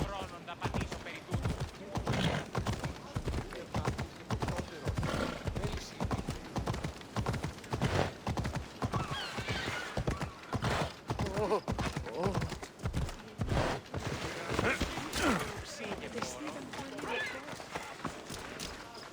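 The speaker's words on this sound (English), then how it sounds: "That's a nice horse, Socrates." Rhythmic clip-clop of horse hooves in Assassin's Creed Odyssey, steady and continuous throughout, with a voice talking over it at times.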